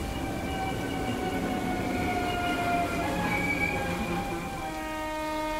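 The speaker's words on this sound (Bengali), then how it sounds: "কিছুক্ষণ পর ট্রেনটা হঠাৎ একটা ঝাঁকুনি দিয়ে দাঁড়িয়ে পড়ল।" A train slows and halts in a rainstorm, with sustained screeching wheel and brake tones that slide in pitch over a steady rumble, loud and continuous, with no voices.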